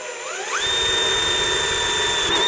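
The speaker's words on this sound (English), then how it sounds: "You see how my drill bit's not walking" A power drill fitted with a 1/8 inch bit spins up and bores a hole in a steel drum for a smoker build, its whine rising quickly and then holding as a steady, loud tone.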